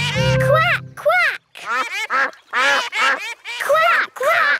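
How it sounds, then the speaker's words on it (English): Cartoon ducks, a mother duck and her baby ducklings, quack repeatedly in loud, close, bouncy bursts with short pauses between them. "Here are the baby ducklings."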